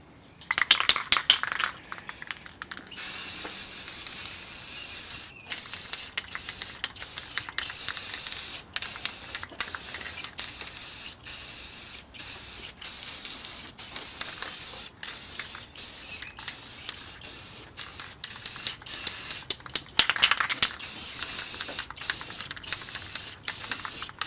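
Aerosol spray of satin clear coat being applied in the engine bay of a BMW E46 330Ci ZHP: a steady, close hiss runs for most of the stretch, broken by brief pauses and quick clicking bursts between passes.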